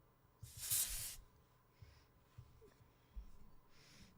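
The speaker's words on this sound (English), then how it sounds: "Just spray myself in the eyeballs, as usual." A spray bottle lets out one loud, close burst of hissing mist while hair is being curled, followed by quieter handling clicks and rustles, with a fainter second spray hiss at the end.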